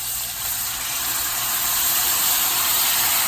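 Loud, constant hissing sizzle of chicken broth hitting a hot pan, steady and close throughout.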